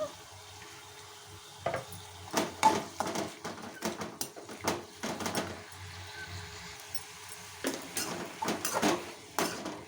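Spring onions being stirred as they fry in a pan for a Telugu roti pachadi, with utensil scrapes and clinks in irregular bursts over a faint sizzle, close and moderately loud.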